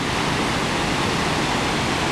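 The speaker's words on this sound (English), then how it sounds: "The waterfall number 1." The first waterfall on the Four Waterfalls Walk in the Brecon Beacons, with brownish water, is a steady broadband rush of falling water, loud and close, filling the whole moment.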